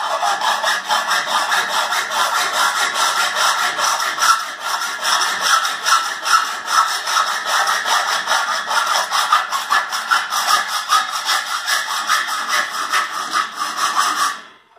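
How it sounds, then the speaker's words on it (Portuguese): A hand saw cuts metalon (rectangular metal tubing) at a 45-degree angle while building a sliding gate. Steady, rasping back-and-forth strokes run close and loud for the whole stretch, with no talking. "Aí aqui eu vou manter a serra encostada aqui na parede do metalon aqui"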